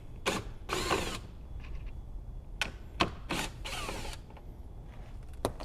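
Small power driver backing out two 10mm bolts on a 2019 Toyota RAV4, heard as two pairs of short whirring bursts with ratcheting clicks, close and fairly loud over a low background hum.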